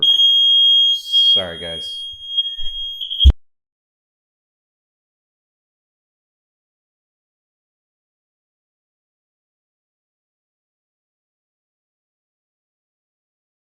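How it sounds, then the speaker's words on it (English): A building fire alarm shrieks loudly during alarm testing, a steady high electronic tone running for about three seconds over a man's brief speech before cutting off abruptly, then silence. "So they're doing fire alarm testing here, so bear with me if that was very loud."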